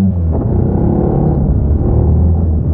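A Yamaha Tenere 700 motorcycle is ridden along, its engine giving a steady, loud low rumble with a smooth continuous drone and slight rises under throttle.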